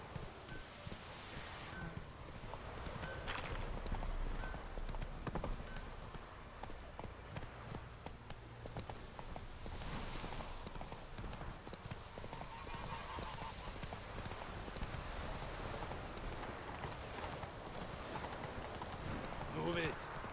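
Horse hooves clip-clopping in The Witcher 3, a faint steady trot under ambient game sound and a speaker talking.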